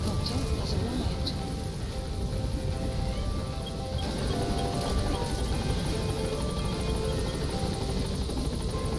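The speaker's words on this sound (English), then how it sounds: "Support helicopter has arrived." Support helicopter arriving in Metal Gear Solid V, its steady rotor thrum and engine drone filling the scene with a continuous loud, dense rumble beneath faint game sounds.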